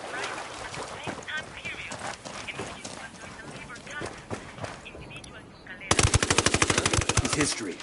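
Automatic gunfire in the Ghost Recon Wildlands video game erupts as a loud, rapid burst of evenly spaced shots near the end, after a stretch of radio chatter and background game noise.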